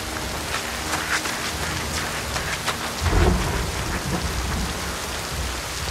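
Heavy rain pours steadily with a low rumble of thunder rolling in partway through, dense and close throughout.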